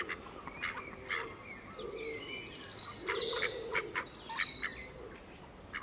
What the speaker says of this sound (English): They've really upgraded the bird noises on this update.